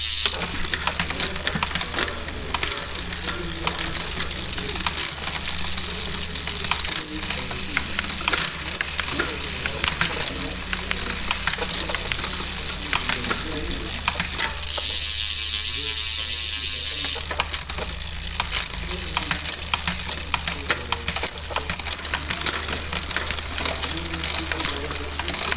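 Derailleur on a road bike ticking and clicking steadily as the pedals turn through the gears during adjustment, a close mechanical ratcheting that runs the whole time with a brief louder hiss partway through.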